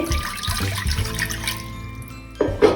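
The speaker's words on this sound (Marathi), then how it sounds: "कुकरमध्ये मी सर्वात आधी खाली पाणी घालते" Water poured into a metal pressure cooker, a splashing gurgle with a rising ringing tone, ending in a couple of sharp clanks.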